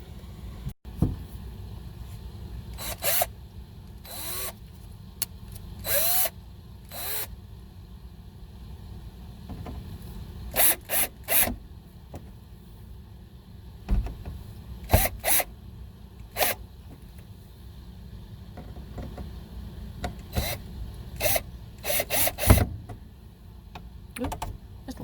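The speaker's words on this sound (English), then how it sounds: "I'm going to hand screw all these in, and then I'm going to tighten them up with that drill" Screws being driven into a truck-bed storage build, first turned by hand then tightened with a drill, heard as short bursts of whirring and rattling spaced across a quiet workspace, close and without talk.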